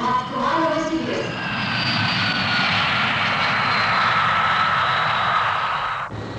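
Jet engines of a Tu-104 airliner roar loud and steady at an airport, with a rising whine through the middle before the sound cuts off abruptly near the end.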